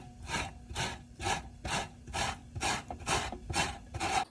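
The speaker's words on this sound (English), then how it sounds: "So I'm going to use this side, right, of the grater." Cold cooked potatoes scraped down a box grater in about nine steady, even rasping strokes, close and clear with no talking.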